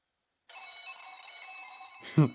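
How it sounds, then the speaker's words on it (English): A phone rings in the video game Welcome Home, a thin electronic trill sustained for about a second and a half, faint and steady, then cut off by a short sharp sound. "I'm calling Wally. Pick up the phone"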